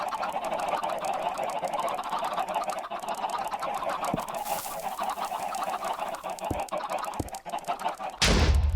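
A crowd of chickens in a Minecraft-style game clucks and squawks continuously at close range, a dense overlapping flock chatter with a few sharp clicks and a loud burst of noise at the end.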